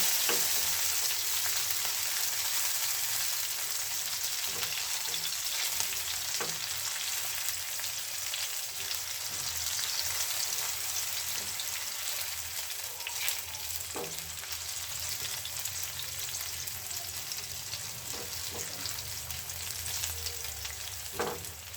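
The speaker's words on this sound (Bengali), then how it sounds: "এখানে দিয়ে দিলাম কেটে রাখা ছোট ছোট করে কেটে রাখা মরিচ এবং দিয়ে দিলাম লম্বা লম্বা করে কেটে রাখা টমেটো। এগুলো দিয়ে আরও একটুখানি নেড়ে চেড়ে কষিয়ে নিব।" Chopped chillies and long-sliced tomatoes frying and being stirred in a pan for chow mein, a steady close sizzle with occasional scraping stir strokes, no talking.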